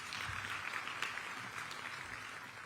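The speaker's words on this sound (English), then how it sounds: "A round of applause." Audience applause at a diplomatic gathering in Addis Ababa, a short, even wash of many hands clapping at moderate distance, steady from start to finish with no talk over it.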